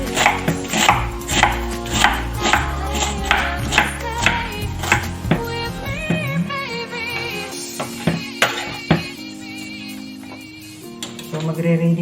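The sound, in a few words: chopping cabbage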